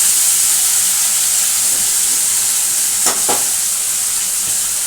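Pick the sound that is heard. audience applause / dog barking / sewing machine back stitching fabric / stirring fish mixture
stirring fish mixture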